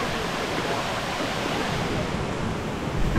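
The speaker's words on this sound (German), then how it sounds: "Das ist der Wasserfall?" A small waterfall in the Colombian rainforest roars as a dense, steady rush of falling water, loud and close, filling the scene without a break.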